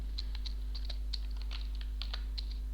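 Quick, light keystrokes on a computer keyboard while entering a formula keyword, a dozen or so crisp clicks in an irregular rhythm over a steady low electrical hum.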